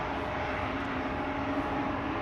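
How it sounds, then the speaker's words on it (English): KLM Embraer E2 jet departing Amsterdam Schiphol for Belgrade, a steady broadband engine roar with a faint tonal hum, moderately distant and unbroken throughout. "E2 Embraer to Belgrade, KLM flight 1983."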